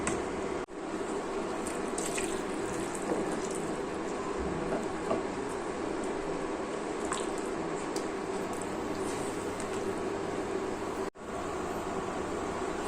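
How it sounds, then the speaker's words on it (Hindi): More water is added to a simmering soybean yogurt curry in a pan. The pour makes a long, steady, moderately loud rush of liquid, with a brief break near the start and another near the end. "थोड़ा सा और पानी डालूंगी मैं।"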